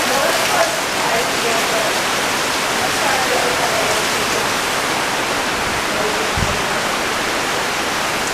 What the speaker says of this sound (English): As you can hear, it's actually raining today.